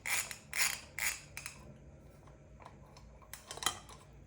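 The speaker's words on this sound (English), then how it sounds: "Once you remove this one, the entire headlight is free to come off." Motorcycle headlight being freed as the last fastener comes out, several close, sharp mechanical clicks and creaks at a quiet level, with a short pause between bursts.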